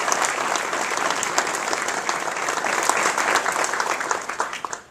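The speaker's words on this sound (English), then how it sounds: "Please join me again in giving them all a round of applause." Steady applause from an audience at a NASA agency award ceremony fills the room, a dense, even patter of many hands that tapers off at the end.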